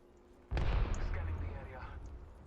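A grenade goes off in a first-person shooter video game: a sudden loud blast with a low boom that rolls on and fades slowly, with faint background noise before it.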